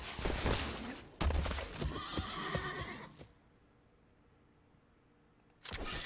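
A horse whinnies loudly in the MTG Arena digital card game, a bright drawn-out neigh with clip-clop hoofbeats that fades to near silence before another sound effect starts up at the end.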